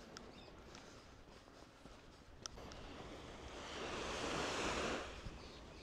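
Waves washing onto the beach at Puerto del Carmen, Lanzarote, a faint, soft surf hiss that swells toward the end, with a sharp click partway through and light wind noise.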